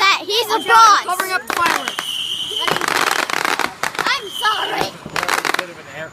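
Fourth of July fireworks crackle and pop in rapid bursts, fairly close and loud, while children and other people talk and shout excitedly over them throughout.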